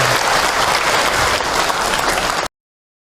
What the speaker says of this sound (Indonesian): Tepuk tangan buat Bunda yang sudah bertanya